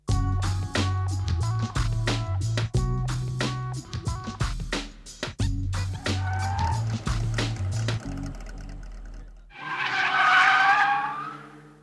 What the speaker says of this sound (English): The car slides at every opportunity and it gets them used to having the car slide underneath them.